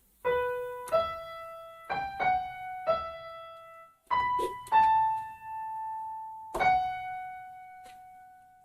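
A keyboard plays the opening of a theme from Harry Potter, about eight distinct, close notes with longer held ones near the end, sustained and ringing alone without any talk.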